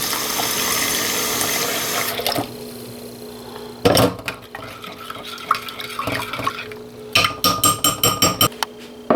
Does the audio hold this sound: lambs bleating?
no